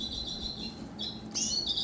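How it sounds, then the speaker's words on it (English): Redpolls kept indoors in a bird room chirping, with several bright, overlapping high tweets and trills over a low room hum, growing livelier near the end. "inside the bird room this year, I'm keeping all my redpolls in the bird room inside here."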